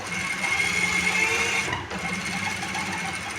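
Sewing machine stitching a shalwar, a steady close mechanical whir and rapid needle chatter that dips briefly midway and then resumes.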